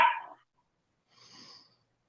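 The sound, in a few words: dogs barking after waking from a nap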